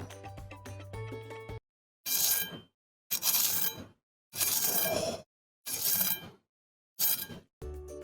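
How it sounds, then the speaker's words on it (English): A handful of loud, crunchy bites into crisp fried gorditas, each crunch a separate burst with short pauses of quiet between them. "I want you guys to hear how crispy it is."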